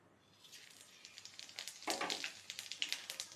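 Dried red chillies, panch phoron and cumin seeds dropped into hot mustard oil: faint sizzling that quickly rises into rapid crackling and popping spatters, close by with no talking.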